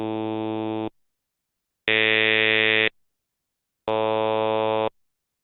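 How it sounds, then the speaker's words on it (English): Robotic synthesized vowels A, E, U, A, O produced by a resonator, heard as three steady buzzy tones about a second each, separated by clean silences, loud and alone. "you can hear it's very robotic, but it's starting to be intelligible. You can hear the vowels A, E, U, A, O."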